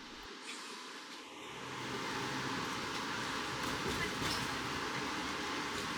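An Amtrak Northeast Regional passenger train leaving Richmond, Virginia, rumbles along steadily, a broad continuous roar that swells after a brief quieter moment at the start.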